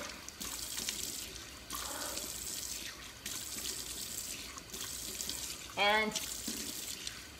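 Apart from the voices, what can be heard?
water running while rinsing skin polish off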